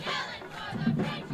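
Crowd at a high school football game at night between East View and Brenham cheers and shouts loudly, a steady roar of many voices swelling toward the end with no clear speech.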